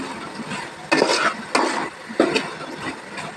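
Fish curry being stirred in a pot, with three scraping, clattering bursts of utensil against the pot over a steady low simmer, close by and with no talking.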